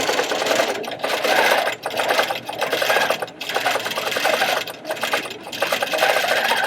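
A Grace Factory sewing machine stitches in a loud, continuous mechanical whir, pausing briefly several times between runs of rapid stitching, with no talk over it.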